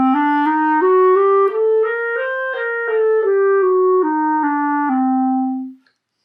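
Solo clarinet climbs and descends the klezmer Mishe Berach mode scale, one clear sustained note after another in steady rhythm, played close and alone with a longer held final note.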